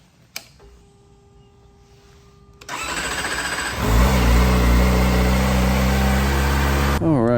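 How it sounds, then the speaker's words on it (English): A Kawasaki ZX-4RR motorcycle cranks over and fires up, its engine catching with a jump in loudness and then settling into a steady, close, strong rumble with a brief blip near the end. "We're gonna hop on the bike, get it started, and go for a little rip."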